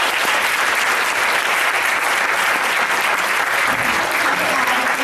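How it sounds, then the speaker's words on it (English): Applause at a parent advocate forum on public education reform, as the audience claps for the visiting speakers with a full, continuous roar of many hands that stays steady and loud from start to finish. "so let's all give them a nice round of applause."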